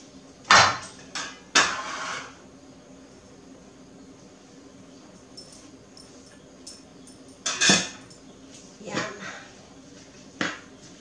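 A spoon clatters sharply against a bowl in a few separate bursts while chopped jalapenos are mixed, with quiet gaps between the knocks.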